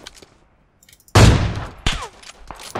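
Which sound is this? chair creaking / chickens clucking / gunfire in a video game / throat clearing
gunfire in a video game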